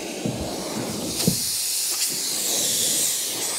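Steady loud hiss of air escaping from an accidentally cut air compressor hose at a cabin build site, a continuous broadband rush with a few faint knocks, no talking.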